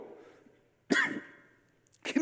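A single harsh cough, then a second shorter cough about a second later, close and loud, breaking through a quiet pause in a church sermon.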